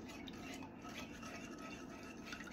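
A vinegar mixture being stirred in a pot before it goes on the heat, giving a steady, close scraping and swishing that runs unbroken through the clip with no talk.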